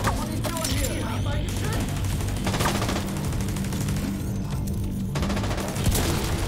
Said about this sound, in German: Oh, die Flasche hat tatsächlich explodiert.